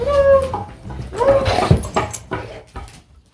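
Excited dogs whimper, whine and let out short yips in quick succession, close and fairly loud, with high-pitched cries tapering off toward the end.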